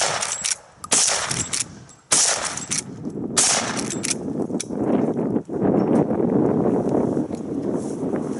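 Several sharp, loud gunshots from a Rossi Rio Grande lever-action rifle in .45-70, fired at a quick, uneven pace about a second apart with a brief ringing after each.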